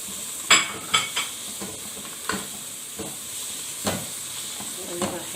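Chopped onion and grated carrot sizzle steadily in a pan while being stirred, with sharp scraping knocks of the utensil against the pan at irregular moments over a soft, continuous frying hiss.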